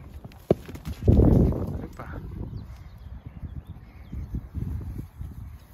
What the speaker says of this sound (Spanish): Ahí vienen los otros caballos.